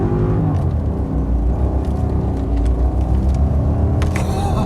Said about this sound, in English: Floor it in first gear. Just so you could see the acceleration on this car.